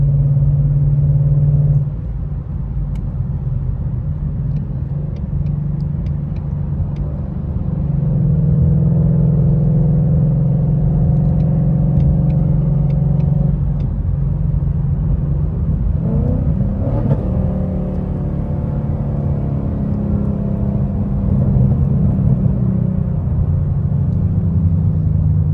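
A car cruises through highway traffic, its engine and tyre roar a steady loud drone with a rise in revs midway, heard from inside the cabin without talk.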